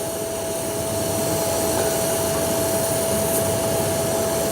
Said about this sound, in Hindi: इसलिए इसे तसल्ली के साथ वेल्ड कर लें